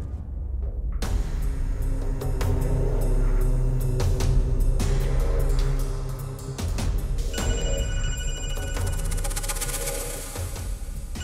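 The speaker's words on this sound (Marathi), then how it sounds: "ए महेश हा भाऊ हा फोन बघ जरा" A telephone rings with a bright, repeating electronic tone over a steady low hum, growing more prominent toward the end.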